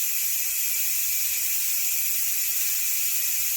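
Steam hisses steadily from a Ninja Foodi as its pressure is released, a loud, continuous broadband rush that holds unbroken throughout with no voices over it.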